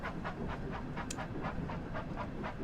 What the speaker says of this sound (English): You can really hear the chugga choo choo.